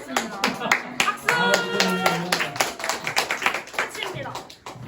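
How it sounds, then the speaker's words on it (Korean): Clapping at a church youth worship service, a lively burst of many hands with distinct sharp claps, mixed with voices and cheering over the top. "박수!"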